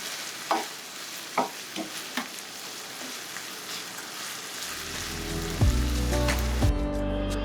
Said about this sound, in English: So just add your tomato and your brown sugar. Stir this up.